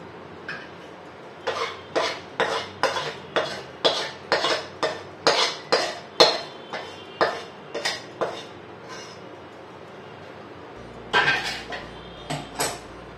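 A spoon knocks and scrapes rhythmically against a metal pot while ladoo mixture is mixed with wheat jaggery syrup, about a dozen evenly spaced clanks, a pause, then a few more, close and loud with no talking.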